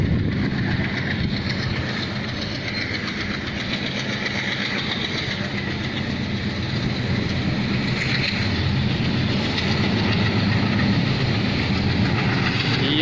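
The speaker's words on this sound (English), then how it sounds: "here you can see the train." A passing train rumbles steadily and loudly, a dense continuous roar of wheels and carriages with faint rhythmic clatter throughout, no voices.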